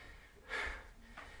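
A woman leading a 30-minute core workout clears her throat once, a short, rough burst of noise close to the microphone, with quiet room tone before and after and a softer breathy sound following.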